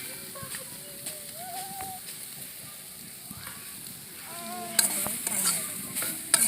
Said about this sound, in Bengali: এবার আমি নারকেলগুলো দিয়ে দিচ্ছি কড়াইয়ের মধ্যে।